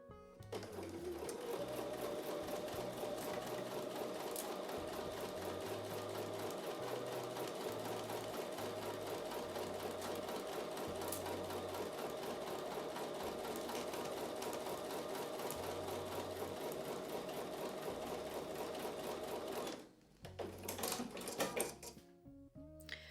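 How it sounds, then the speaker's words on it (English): A sewing machine stitches a 1/4 inch seam on a quilt block in one long, steady, close run of rapid needle rattle, then stops briefly and restarts for a few short bursts. "I'm going to take that over to the sewing machine and sew with a 1/4 inch seam."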